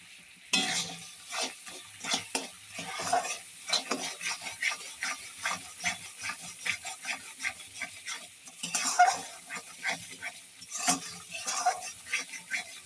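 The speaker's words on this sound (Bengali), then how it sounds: "এবার কড়াইতে আমি চিনি দিয়েছি, চিনিটাকে ভালো করে ফুটিয়ে গলিয়ে নিচ্ছি।" A spatula scrapes and stirs sugar melting in a wok in a steady repeating rhythm, with a faint sizzle underneath and no talking.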